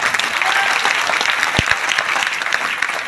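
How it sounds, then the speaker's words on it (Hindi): An audience at a success celebration event in Noida claps steadily, with dense, even applause filling the whole stretch and no break. "तालियां बढ़िया से बजाओ, बड़ी मेहनत करिए यार यहां तक पहुंचने के लिए।"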